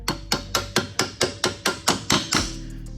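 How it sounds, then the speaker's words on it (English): Ten sharp metallic hammer strikes ring out at an even, brisk pace, each blow close and loud with a short ringing decay, driving a front CV axle shaft into place on a Mercedes GLS. "you wanna get it pushed in with a hammer"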